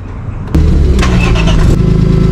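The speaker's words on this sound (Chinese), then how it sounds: "启动一下 warm up 一下" A BMW E46 M3 with a 3.2-litre naturally aspirated straight-six cranks briefly and catches, settling into a loud, steady idle as it warms up, close by with no talk.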